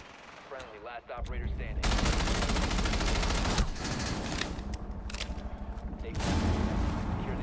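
Sustained automatic gunfire fills a video game firefight, loud rapid bursts running almost continuously with a brief pause midway, and players' voices briefly heard at the start.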